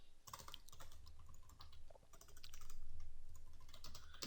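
Fingers tap steadily on a computer keyboard, quick irregular clicks in short bursts with a brief pause, close and fairly quiet with no talking.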